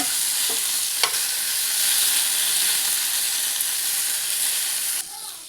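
Indian borage leaves sautéing in a pan give a steady, close hiss of frying, with a couple of brief utensil scrapes early on; the sizzle drops slightly in level near the end.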